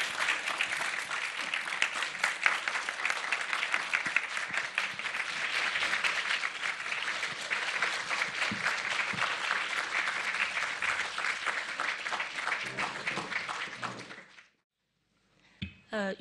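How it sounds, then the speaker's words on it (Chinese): Warm applause from a lecture-hall audience welcoming two professors to a talk comparing Chinese and Western pastoral poetry, steady dense clapping for about fourteen seconds before it stops abruptly, followed by a brief quiet and a faint voice at the end. "现在我们以热烈的掌声欢迎两位教授"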